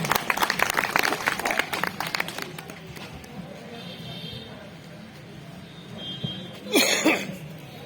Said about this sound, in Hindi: एक बार जोरदार तालियों से जिला अध्यक्ष जी का अभिनंदन